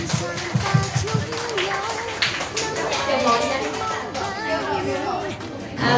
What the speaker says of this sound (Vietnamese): bây giờ chúng ta cùng vỗ tay chúc mừng buổi tiệc xin được bắt đầu